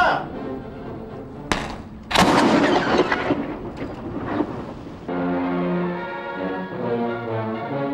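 A historic cannon fires at the Pembroke Dock gun tower, one loud boom followed by a second heavy blast and a long rumbling echo, with shouted commands and crowd noise around it.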